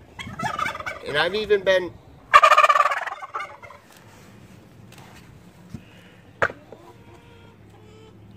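A turkey gobbles loudly up close in a rapid, rattling burst, following a brief spoken phrase, then things settle to quiet with a few faint clicks.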